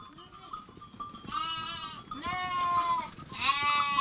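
Sheep and lambs, including a ewe with twin lambs, bleat in a village farmyard, with several overlapping wavering cries that grow louder toward the end over a low background rustle.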